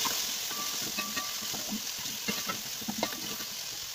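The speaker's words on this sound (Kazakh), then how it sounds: "бірінші қазанға су май құйып, оған пияз салып, жақсылап қуырамыз" Onion and other vegetables frying in water and oil in a pot for lentil soup, a steady close sizzle with occasional stirring clatters, no talk.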